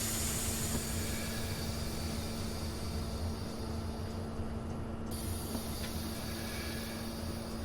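Steady rumble of a train in the Train Simulator 2017 game, a continuous low drone with a constant hum line and broadband rail noise, moderately loud and unbroken with no talking.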